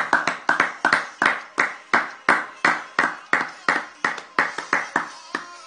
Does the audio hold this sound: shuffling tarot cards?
no